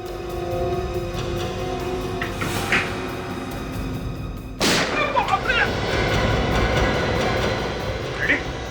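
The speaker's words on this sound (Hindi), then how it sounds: "गलती से गोली चल गई" A single sharp, loud gunshot from an accidentally fired gun cracks out partway through, with a broadband burst and brief echo, amid background noise and voices.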